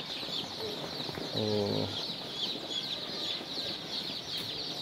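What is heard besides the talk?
chicks cheeping at a hatchery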